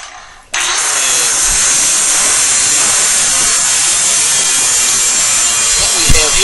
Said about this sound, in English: what we have here is a side angle grinder, and we have a diamond blade on